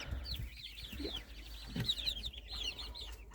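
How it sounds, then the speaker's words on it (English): Chickens, including Easter Eggers, cluck and chirp softly in the background, several birds calling intermittently at a low level. "We've got Easter eggers, and we just have some mixed chickens."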